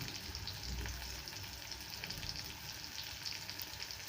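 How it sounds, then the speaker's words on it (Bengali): Onions fry over lowered heat in a pan for a broiler chicken curry, giving a soft, continuous sizzle with light stirring, quiet and steady, no voices. "পেঁয়াজগুলো ভাজতে ভাজতে দেখুন বাদামি কালার রং চলে আসছে"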